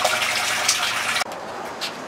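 Water gushes steadily into a container being filled to mix saltwater, a loud rushing pour that cuts off abruptly, leaving quieter dribbling and splashing.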